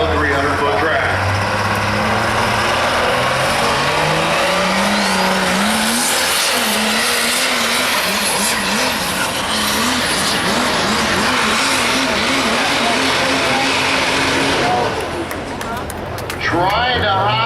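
A power-driven sled pull truck at a 2018 sled pull event roars loudly down a 300-foot track, its engine revving and wavering in pitch for the whole run, while an announcer talks over it.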